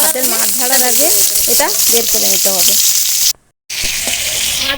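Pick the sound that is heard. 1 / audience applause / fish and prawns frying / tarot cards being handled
fish and prawns frying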